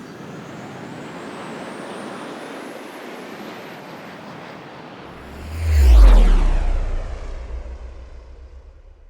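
A jet airplane taking off builds from a low rumble into a loud roaring swell, then sweeps past and fades, alone and with no voices.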